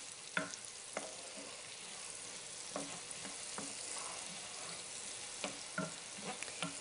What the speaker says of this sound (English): we're just going to cook these until your onion and your mushroom get tender